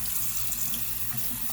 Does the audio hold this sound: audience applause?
no